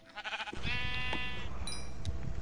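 A person imitates a sheep with a wavering, drawn-out vocal bleat that follows a short burst of other sound, heard close and loud during a casual game session.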